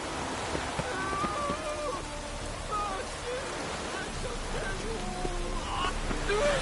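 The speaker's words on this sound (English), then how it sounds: "Rain doesn't bother you," Steady hiss of falling rain fills the background, with faint voices and chirping tones scattered over it.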